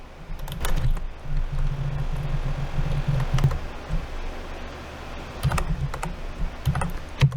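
Rapid clicking keystrokes on a computer keyboard while entering a formula in Power BI, close and clear, in uneven bursts with brief pauses and no talking.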